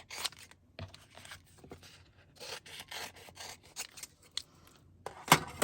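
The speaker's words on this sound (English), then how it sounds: "now I'm going to use these scissors to trim them out" Several short, crisp snips and rustles of scissors cutting paper, close by and irregular, with brief pauses between cuts.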